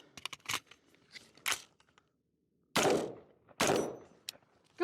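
An LMT Defender 2000 rifle fires several sharp, loud reports close by, two big booms about a second apart after a brief silence, with smaller metallic clicks and clatter from handling the gun around them.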